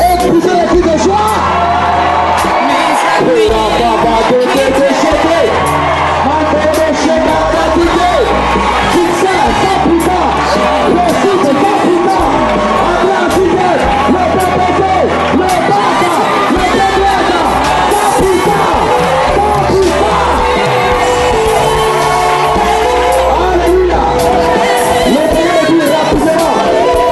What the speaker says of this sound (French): Que seulement acclamer et pousser les cris de joie.